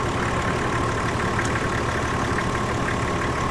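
A Toyota 80 Series Landcruiser's 1HZ diesel engine idles at a steady, continuous run, close and even, with no talking over it.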